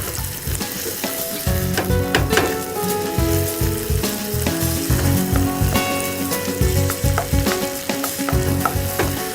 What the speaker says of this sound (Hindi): इसमें मैं डाल रही हूँ शिमला मिर्च। बस हल्का सा सौते करें इसे।